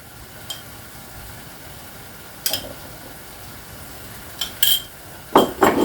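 Garlic and ginger paste stirred in a frying pan for rogan josh, a soft sizzle under several scattered clinks and scrapes of a utensil against the pan, growing busier toward the end.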